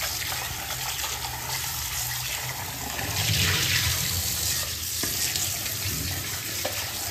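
Water runs and splashes steadily as black bansi fish are washed, a close, faint rushing and gushing with small splashes and brief surges and no clear talking.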